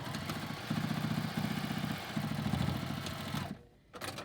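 A sewing machine stitches the second seam of a fabric face mask with a filter pocket, running in rapid rhythmic bursts separated by short pauses, then stopping before a brief restart.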